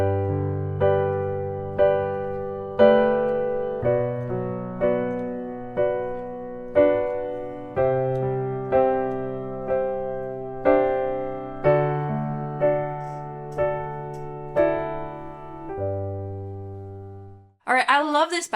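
Solo piano playing a left-hand accompaniment pattern, steady repeated bass notes and chords struck in a regular rhythm, clear and close, with a short burst of other noise at the very end.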